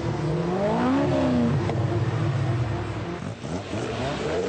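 An Aston Martin Vantage and other sports cars, including a Caterham, accelerate hard in a race, with a loud, continuous engine roar whose pitch climbs as the revs rise, then holds steady.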